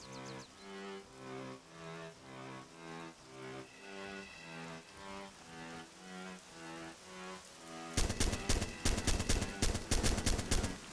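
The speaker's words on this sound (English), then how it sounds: "The shooting begins." Rapid gunfire in a battle royale video game erupts midway as dense, loud bursts of automatic shots, following a stretch of steady pulsing music.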